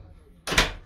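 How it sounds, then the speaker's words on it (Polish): A toilet door on a PKP InterCity sleeper train being shut, a single short, close, sharp slam after a quiet moment. "Zamknijmy drzwi."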